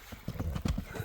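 An Argyn horse, a dark bay colt brought from Russia, clip-clops with a quick, close, uneven run of hoof strikes and a faint whinny underneath.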